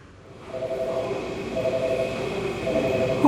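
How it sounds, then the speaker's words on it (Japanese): A train rumbles and squeals softly as it glides in alongside a platform in Tokyo, bound for Shibuya, a steady mechanical drone growing slightly louder, no voices. "ホームに滑り込んできた電車に揺られて"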